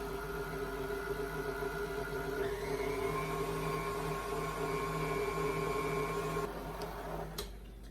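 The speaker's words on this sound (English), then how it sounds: "We're using our lovely KitchenAid stand mixer" A KitchenAid stand mixer runs steadily, whipping a thick marshmallow paste, with a sustained motor hum whose pitch shifts partway through before dropping and fading near the end.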